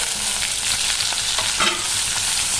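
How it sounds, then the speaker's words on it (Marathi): Raw chopped tomato pieces fry in oil with softened onion for a tomato chutney, giving a dense, continuous close sizzle broken by repeated scraping stirs of a spoon in the pan. "व साधारणतः 1-2 मिनिट तेलामध्ये आपल्याला हे परतून घ्यायचे"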